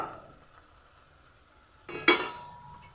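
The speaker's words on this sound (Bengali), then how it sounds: "এবার দিয়ে দেব ভাজা বেগুনগুলো" Fried eggplant pieces dropped into a hot pan of oil, a quiet low hiss followed by a sudden bright sizzle burst and a metallic clink near the end.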